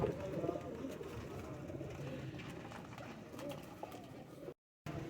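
Pigeons in a breeding loft cooing steadily in low, overlapping calls, close and continuous, with a brief dropout near the end.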